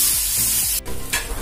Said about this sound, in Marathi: बघा आत्या फोडणी देते मिसळला तेल काय काय टाकलं